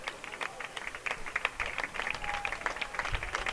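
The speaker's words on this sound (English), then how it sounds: "Valadez gets a nice round of applause" A crowd at a high school baseball game gives the pitcher Valadez a modest, steady round of clapping, distant and scattered, with faint background voices.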